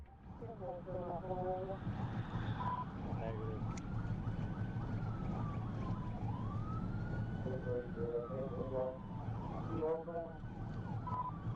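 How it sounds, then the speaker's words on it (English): A police car siren wails and yelps continuously over steady road and engine rumble, with rising and falling tones repeating throughout. "he activated his emergency lights and siren."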